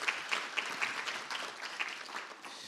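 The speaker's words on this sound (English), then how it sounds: "Please give a round of applause." A fairly quiet, uneven round of applause from an audience at a youth launch event, scattered hand claps with no voices.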